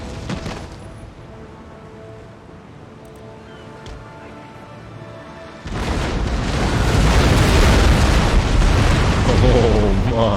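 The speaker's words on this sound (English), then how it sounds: "So I'm going to unleash a broadside into this poor bomb catch." Cannon fire from a ship's broadside in the naval battle game Empire: Total War erupts as a loud, sustained rumbling barrage of overlapping booms that keeps rolling for several seconds after a quieter stretch.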